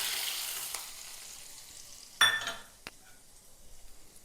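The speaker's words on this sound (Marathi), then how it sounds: "आणि याला तडका देणार आहोत।" Hot tempering oil hitting coconut chutney for idli, a loud hiss that fades, then a sharp sizzling burst and a clink of a utensil, close up with no speech.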